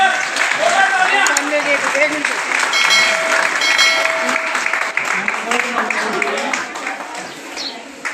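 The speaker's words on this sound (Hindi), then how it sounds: "जोरदार एक बार जोरदार तालियां।" A crowd at an International Girl Child Day celebration in Bundi claps, with lively applause mixed with voices and some chirping birds in the background, tapering slightly toward the end.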